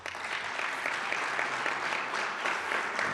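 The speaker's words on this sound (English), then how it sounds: "let's have a round of applause for Peter" An audience at a US Navy 250th anniversary ceremony applauds steadily, a full, even burst of many hands clapping with no talk over it.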